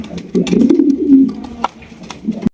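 Racer and satin pigeons coo in a short burst of low, throaty murmuring, close by, with a few sharp clicks and rustles around it.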